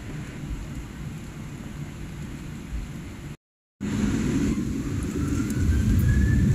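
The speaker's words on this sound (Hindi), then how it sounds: "टेक ऑफ हो रहा है अभी।" A loud jet roar building steadily as an airliner takes off from Mumbai Airport, after a brief dropout, with a rising whine toward the end, over a constant background hiss.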